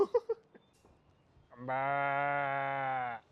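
After a few faint knocks, a cow gives one long, steady moo lasting over a second, close and clear, with no talk over it.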